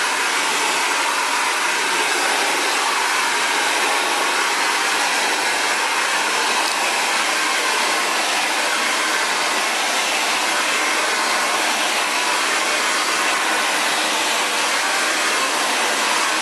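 Steady, loud whoosh of a hair dryer, an Xtava Allure ionic ceramic model, blowing out curly hair, running without a break throughout with no talking.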